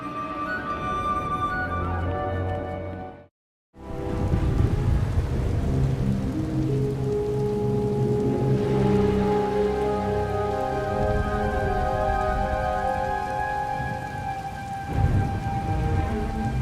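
Heavy rain pours steadily on surfaces during a thunderstorm in the video game Star Wars: The Old Republic, with low thunder rumbling underneath. The sound cuts out briefly early on and then resumes loud and continuous.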